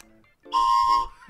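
A toy train whistle blown once, a bright steady multi-tone whistle lasting about half a second, loud and close, with no talk over it.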